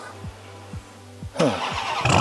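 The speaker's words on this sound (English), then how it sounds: "let's go ahead and start her up" A 2024 RAM TRX Special Edition truck with its 700-plus horsepower engine starts by remote start: a few faint electronic chirps, then the starter catches and the engine bursts into a loud rumbling idle that rises in level.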